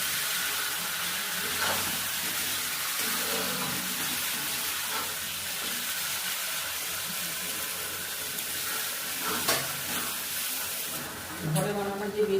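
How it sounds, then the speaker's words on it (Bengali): Chicken being fried and stirred with green chillies in a pan, a steady sizzle with faint clinks of the spatula running throughout, close and fairly loud. "ভালো করে কষে নেবো মাংস। এখন চিকেনটাকে একটু কাঁচা লঙ্কা দিয়ে দিচ্ছি"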